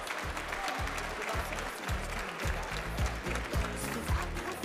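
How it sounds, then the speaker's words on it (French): Loud, continuous applause from an audience at a Sirha food-trade cheese and chef cooking show, steady dense clapping filling the whole stretch over a rhythmic thumping music beat. "ça mérite des applaudissements"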